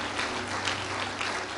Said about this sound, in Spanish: ¿Puede darle un aplauso de alabanza a Jesús?